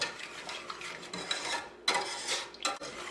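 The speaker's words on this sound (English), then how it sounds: "I'm using the whisk and I'm breaking up that huge pieces of peaches" Whisk stirring a peach and dark rum glaze in a pot as it comes up to a boil, soft scraping and stirring with a couple of sharper clinks against the pot, close and alone.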